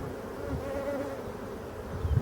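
Nervous honeybees buzz steadily at an open, densely populated hive, a continuous close droning hum of many insects with no talk.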